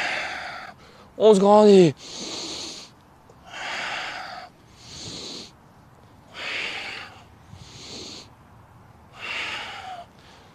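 Breathing in and out in a steady rhythm during a shoulder exercise, several soft breaths, mixed with a few spoken words close to the mic.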